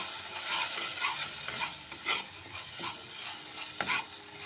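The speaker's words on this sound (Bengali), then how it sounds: "এখানে আমার মশলাটা কিন্তু কম বেশি কষা হয়ে গেছে" Spice masala with red chilli powder fries in a pan for home-style egg curry, a soft steady sizzle broken by repeated scraping strokes of a spatula at an unhurried rhythm.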